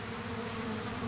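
Honey bees buzz around looking for a swarm, a steady, close drone of many wings with no pauses.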